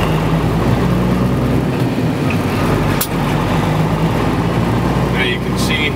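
A semi truck's engine drones steadily and loudly as it climbs a slippery, sanded winter grade, a constant low rumble close by with no breaks.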